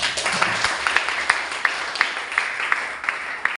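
A group claps along at a community-service student farewell event for STAH DNJ 2024, with crisp, regularly spaced claps standing out above a continuous wash of applause.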